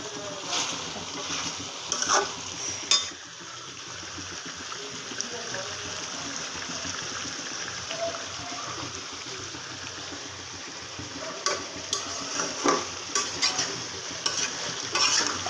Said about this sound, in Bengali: এটা ভালো করে আমি কষিয়ে নিচ্ছি